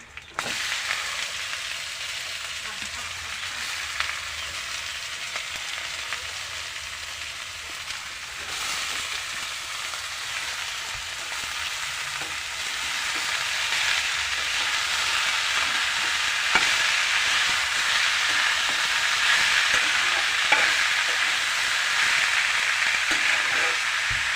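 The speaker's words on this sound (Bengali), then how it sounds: "দেখতে পাচ্ছেন আমরা ডেকি শাক পাক করার প্রায় মোটামুটি শেষের পর্যায়ে।" Dheki shak, fiddlehead fern, stir-frying in a pan as a steady, loud sizzle that builds slightly over time, with occasional scrapes and clicks of a spatula.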